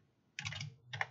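Computer keyboard typing, two short close bursts of clattering keystrokes with a brief pause between them, no talking.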